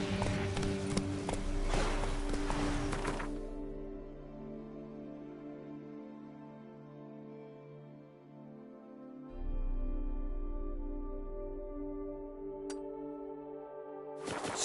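Roach, a horse in The Witcher 3, gallops with rapid hoofbeats for a few seconds that fade into a low steady game ambience, with hoof sounds returning faintly near the end.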